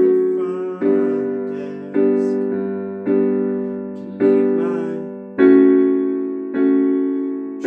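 Solo piano plays the chord progression of a song, seven sustained chords struck about once a second, each ringing and fading before the next, with no talking.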